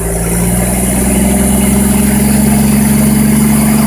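Bucyrus Erie 24L drilling rig engine running with the choke on, a loud steady idle with a strong low tonal hum that rises slightly in level, alone without talk.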